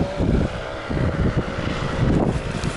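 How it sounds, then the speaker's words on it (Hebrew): Gusting wind buffets the microphone outdoors at an airfield, a rough low rumble that swells and dips in uneven bursts over a few seconds. "הופה, הרוח עלתה עכשיו ממש"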